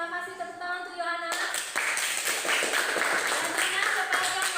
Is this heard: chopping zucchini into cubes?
no